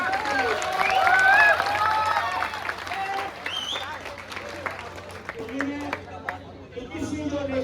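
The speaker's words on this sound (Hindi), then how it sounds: "एक बार जोरदार तालियां इस चैंपियनशिप के लिए।" Audience at the 21st Delhi State championship claps in a loud burst that thins into scattered applause and crowd noise, with voices talking over it throughout.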